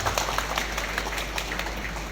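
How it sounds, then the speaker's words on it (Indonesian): Applause for Islamic boarding school students at a religious gathering: a steady, fairly faint wash of many hands clapping, with no pause across the short stretch. "Tepuk tangan sekali lagi untuk para santri."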